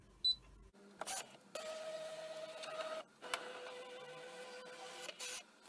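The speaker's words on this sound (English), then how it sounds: "load it into the machine, and again I'm going to scan in my vinyl." A Brother ScanNCut cutting machine scans a sheet of red vinyl on its mat, a steady mechanical whirring motor hum in several long passes separated by clicks and brief stops.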